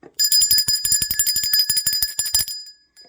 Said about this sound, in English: I'll ring the bell for that.